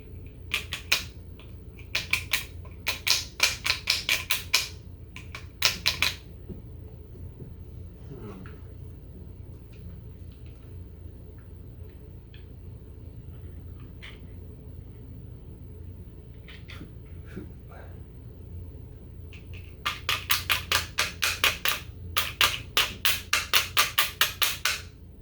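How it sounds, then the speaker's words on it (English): A hammer tapping a CZ P-07 pistol part during a backstrap change, with bursts of quick sharp metallic taps at the start and again near the end, separated by a long quiet stretch of faint handling noise. "This hammer's not small enough."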